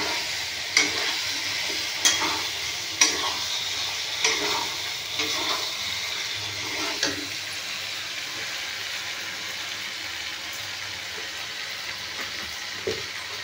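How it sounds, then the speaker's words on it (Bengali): Pointed gourd and potato are sautéed in a pan with a soft, low sizzle, while a spatula taps and scrapes against the pan every second or so. "আমি পটল আলু দিয়ে দেবো। দিয়ে ভালো করে কষাবো।"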